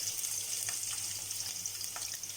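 Finely chopped garlic frying in oil in a pan for cauliflower manchurian, a steady close hiss of sizzling with faint crackles and pops throughout.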